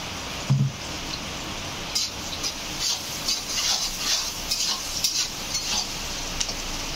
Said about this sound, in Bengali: পেঁয়াজটা খুব বেশি লাল করে ভাজার দরকার নেই, এরকম হালকা ভাজা হলেই হবে।